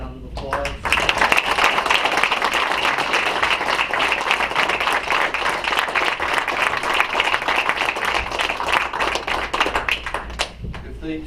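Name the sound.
applause for Taylorville FFA students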